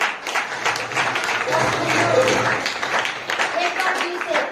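Audience applause at a stage event: a dense patter of many hands clapping, sustained throughout, with a voice speaking over it.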